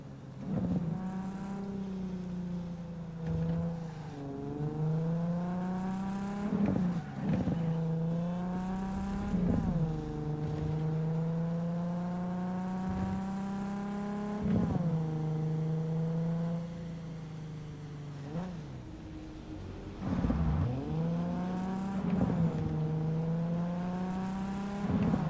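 A car engine in Cyberpunk 2077 drones steadily throughout, its pitch rising and falling with repeated revving and gear shifts, loud and close with only faint background.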